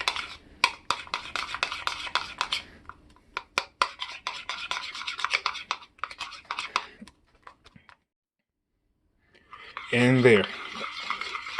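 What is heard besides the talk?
stirring candy melts and chocolate in bowl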